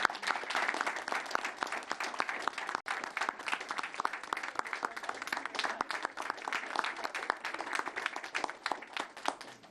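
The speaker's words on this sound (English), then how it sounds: "if everyone would join me in a round of applause" A room full of people at a city mayor's budget hearing claps steadily in a dense, sustained round of applause for Dr. Brandon, staying loud and even throughout with no voices above it.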